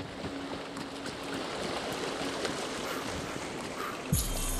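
A waterfall in the video game Tiny Tina's Wonderlands rushes in a steady, broadband roar that holds evenly throughout, with a brief low thump near the end.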